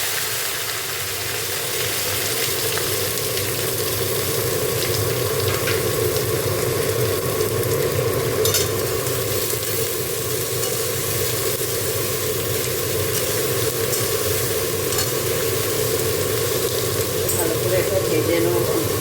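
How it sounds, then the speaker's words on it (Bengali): Potato, cauliflower and carrot pieces frying in a pan on a gas stove, a loud, continuous sizzle and crackle steady throughout with faint clinks. "এখানে সবজি, আলু, ফুলকপি আর গাজর ভেজে নিচ্ছি।"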